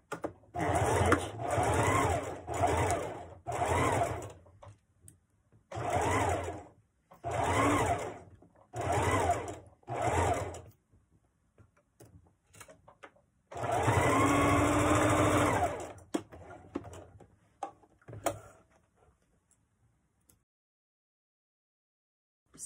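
A sewing machine stitches a fabric face mask in repeated short bursts of motor whir with brief pauses, ending in a longer back-stitching run and a few faint clicks; close and clear, with no talking.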